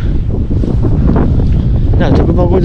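Strong wind buffeting a microphone on a beach at Sokolsky Beach near Lipetsk on a hot day, a steady loud roar and rumble throughout with faint speech mixed in.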